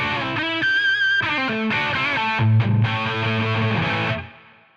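Overdriven electric guitar chords ring out through an amp, sustained and gritty, building briefly louder before fading out at the end.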